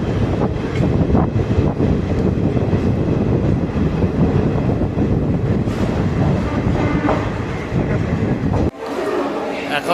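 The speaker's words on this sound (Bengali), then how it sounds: "এখন আমাদের ট্রেন এসে পৌঁছালো বর্ধমান জংশন" A train pulls into Bardhaman Junction, a loud close rumble of wheels and carriages with rattling and wind buffeting, dropping off briefly near the end.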